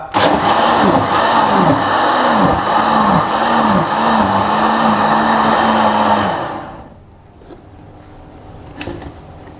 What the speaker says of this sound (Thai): ปั่นให้ละเอียดครับ